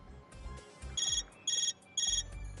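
Phone ringtone in a Neptunia video game: three short, bright electronic trilling bursts, evenly spaced, over low background game music.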